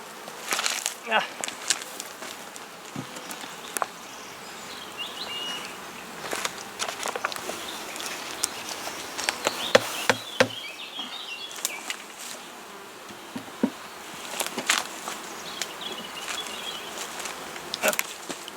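Honey bees buzzing around an opened beehive while bee escapes are set under the honey supers, a steady close hum broken by scattered clicks, knocks and handling noises.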